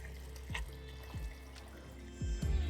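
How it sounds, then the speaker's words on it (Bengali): Fresh water pours from a tap into a pot of soaked lentils being readied for boiling sour dal, a close running splash with a few brief spattering bursts and no talking. "আর জলটা আপনাদের দিতে হবে ডালের লেয়ারের থেকে ঠিক 1 কর বেশি।"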